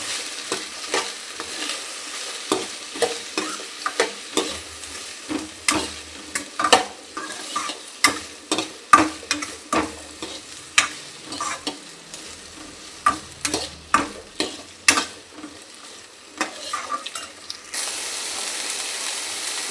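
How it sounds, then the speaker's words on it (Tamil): Drumstick vegetables sautéed in a pan for hotel-style sambar, with a steady sizzle and frequent scraping stirs and clacks of a spatula throughout, close and alone with no talk. "இப்போ இதை ஊற்றிட்டு நல்லா வதக்குங்க."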